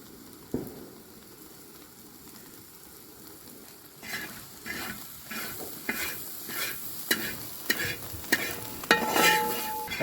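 Soya chunks frying in coconut oil, a soft sizzle that grows busier as a spoon starts scraping and clattering in the pan in a steady rhythm, close and moderately loud.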